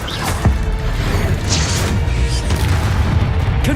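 Bombarda and Confringo blast spells in the Hogwarts Legacy video game go off in a dense, loud run of booming impacts and crashes over constant combat noise, with a few brighter bursts.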